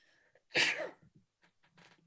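A single sharp sneeze bursts out of a quiet room, followed by faint shuffling and small noises.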